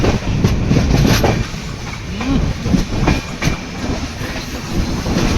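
A Janshatabdi Express 12052 chair-car train runs near Ratnagiri station with steady rumbling rail noise and rhythmic wheel clacks, loud and close throughout.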